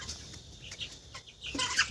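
Desi chickens and roosters, hens weighing around two kilos and kept on a farm where some birds have coryza, cluck softly in a few short, close calls against a low background hum.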